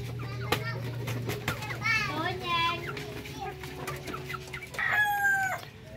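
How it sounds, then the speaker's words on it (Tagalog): Darag native chickens in a backyard farm, clucking and crowing nearby in several bursts, with one long crow near the end, mixed with children's voices and talk. "para mas lalo pong healthy yung ating mga alaga rito, mga darag native chicken"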